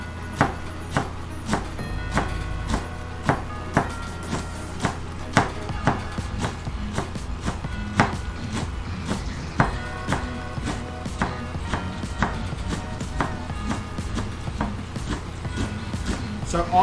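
Food is being chopped with a knife on a chopping board in a home kitchen, giving steady sharp close-up knocks in an irregular rhythm over about seventeen seconds, with faint background noise and no talk.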